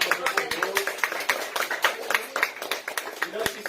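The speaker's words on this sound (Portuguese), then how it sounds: "Salve de palmas ao Senhor" A church congregation claps in praise, the sharp hand claps landing in a quick, steady rhythm and mixing with voices throughout.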